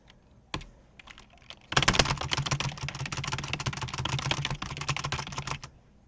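Rapid, dense keystrokes on a computer keyboard during a speed typing test, a single early tap followed by several seconds of continuous loud clatter with no talking.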